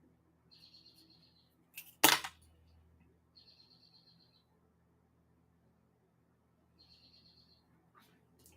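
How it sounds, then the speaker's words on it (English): A loud bird gives repeated high, buzzy calls in three separate bouts, with a sharp nearby knock partway through and quiet stretches between. "that bird is loud"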